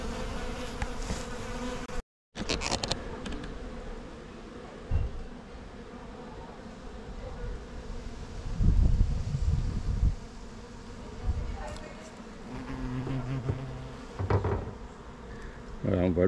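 Dense, continuous buzzing of many bees swarms close by at a hive, with a hornet present, and occasional louder passes and bumps from insects flying near.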